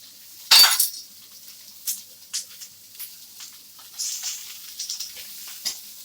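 A spoon is lifted out of a bowl of marinated chicken tikka with one sharp, bright clink, followed by several lighter scattered taps and clinks against the bowl.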